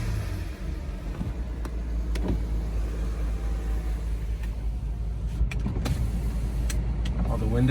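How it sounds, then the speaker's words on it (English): Audi Allroad power window motor whirring under a steady engine idle from the 2.7 biturbo, with small clicks and thumps as the window travels; the idle rumble stays constant underneath. "Window motor's working."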